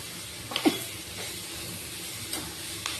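Chopped onion, garlic and spices frying gently in a pan over lowered heat, a soft, low sizzle with a few faint stirring scrapes, quiet and close.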